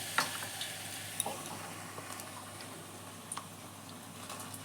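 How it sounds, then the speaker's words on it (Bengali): Pumpkin flower fritters dipped in batter frying in hot oil, a soft, quiet sizzle with occasional light clicks and taps of a utensil, no talking. "এই যে ব্যাটারের মধ্যে চুবিয়ে তেলের মধ্যে ছেড়ে দিলাম।"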